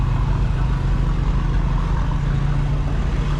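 A steady low engine drone runs throughout, a continuous idling rumble of a 1955 Oliver tractor close by at a farm museum show, with no talk over it.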